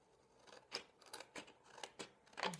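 Scissors snip through paper while a Valentine's Day gift bag is being cut at the fold, the blades closing in a run of six or seven close, crisp cuts at an uneven pace with no talk over them.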